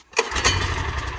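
A NEVA walk-behind tractor engine catches with the throttle and choke open, a brief close rough burst that settles into a steady low idle.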